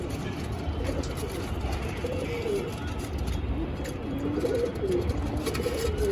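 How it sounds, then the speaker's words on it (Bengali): Madras pigeons coo in a loft, soft rolling calls repeating through a constant backdrop of birds and faint distant traffic. "এটা ম্যাড্রাস পায়রা"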